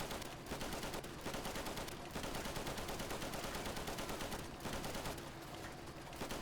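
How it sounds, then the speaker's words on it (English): Sustained automatic gunfire from World War II era weapons in the shooter game Easy Red 2, Cassino campaign, as suppressive fire: dense, continuous rattling bursts with brief gaps, loud and close throughout. "Suppressive fire."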